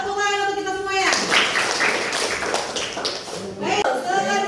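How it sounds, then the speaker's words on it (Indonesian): A classroom group of students claps together in a school guidance session, a burst of lively hand clapping lasting a few seconds between spoken words from a teacher before and after. "tepuk tangan untuk kita semua ya"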